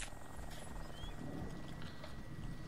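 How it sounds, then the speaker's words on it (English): A helicopter approaches in the video game Arma 2 DayZ, its low rotor drone a faint, steady rumble under a quiet background. "I hear a helicopter."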